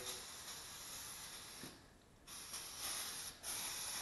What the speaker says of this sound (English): So what you want to do is just spray.